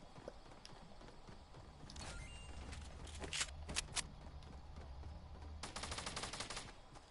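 Gunfire in Fortnite, bursts of rapid shots and single cracks scattered over the clip, fairly faint and distant with a steady low rumble beneath.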